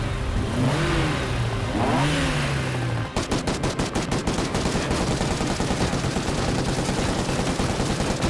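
Rapid automatic gunfire breaks out after a few seconds of a low engine-like drone. It goes on as a loud, sustained burst of closely spaced shots with no talking.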